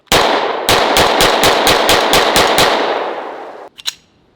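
A Hi-Point pistol dumps its magazine in rapid fire: one shot, a short pause, then about nine evenly spaced loud, close cracks, with a couple of fainter pops after them.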